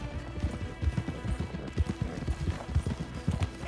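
Horse hooves clip-clop in the video game Red Dead Redemption 2, a close, steady rhythmic gait of repeated hoof strikes running the whole stretch with no talking over it.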